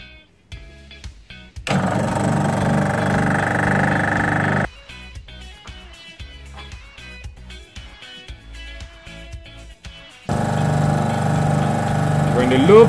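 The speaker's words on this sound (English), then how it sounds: "On the recovery unit." A refrigerant recovery unit on a residential split air conditioner switches on and off, giving a steady motor-and-compressor drone in two long stretches separated by quieter clicking and handling noises.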